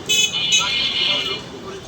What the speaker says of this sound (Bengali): রাস্তায় এত শব্দ, গাড়ি ঘোড়ার শব্দ প্রচুর